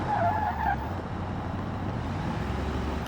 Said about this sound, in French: C'est la roue qui est crevée